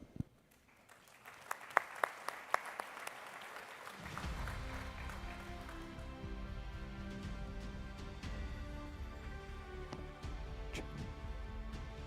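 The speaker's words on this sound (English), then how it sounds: "I would like to invite the juries today who were part of this journey to come to the stage and give them applause." Audience applause at an innovation-in-desalination award ceremony as the jury members are called to the stage, a few scattered claps building into sustained loud clapping that carries on to the end.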